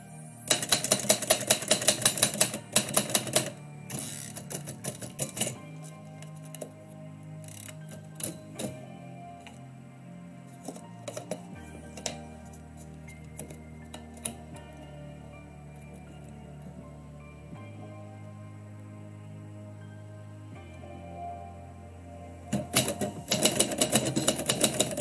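A typewriter clattering out poetry in bursts of rapid keystrokes, with carriage clicks and mechanical ticks, close and steady, easing into sparser ticking and low hum before fast typing resumes at the end.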